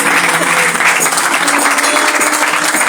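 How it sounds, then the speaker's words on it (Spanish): A church congregation bursts into strong, continuous applause, a dense crackle of many hands clapping together, loud and sustained across the whole moment. "Dele un aplauso al Señor fuerte por lo que ha hecho."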